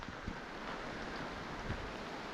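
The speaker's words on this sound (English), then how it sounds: "I can't believe how heavy the rain is" Heavy rain pours outdoors in the wild Scottish landscape near an abandoned 1700s cottage, a dense, steady hiss with a couple of soft low thumps, no voices.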